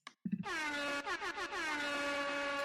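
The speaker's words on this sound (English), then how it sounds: "I was actually holding on to that air horn" A loud, blaring air horn blast with rich harmonic tones, sounding continuously for over two seconds after a brief short toot.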